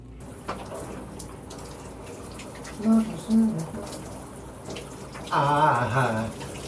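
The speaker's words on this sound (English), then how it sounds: "Shower time." A shower runs steadily, with a constant hiss of spraying water. Short vocal sounds briefly rise over it, twice in the middle and once more near the end.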